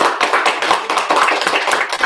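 Close, loud clapping from a small audience at a mastermind event, a busy rhythm of individual hand claps with no talk over it.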